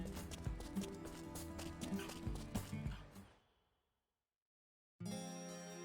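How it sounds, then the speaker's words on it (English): A herd of horses in the Wild Arms 4 video game trots with rhythmic clip-clop hoofbeats over layered game music. The sound fades to silence, and then the music resumes. "Look at all those horses."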